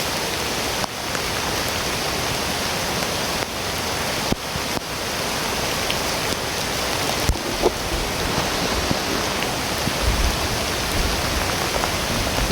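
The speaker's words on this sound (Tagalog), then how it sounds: "Sobrang lakas talaga ng ulan tol." Heavy downpour drumming without pause, a thick, constant wash of rain close at hand with a few faint knocks and no talk.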